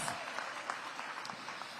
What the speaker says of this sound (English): Please give Paul a big round of applause